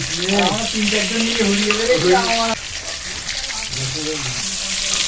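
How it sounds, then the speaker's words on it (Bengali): Fish frying in hot mustard oil gives a steady, bright sizzle and crackle that runs throughout, with a voice talking over it for much of the time. "গরম সরষের তেলের মধ্যে মাছগুলো দিয়ে লাল করে ভেজে নেব।"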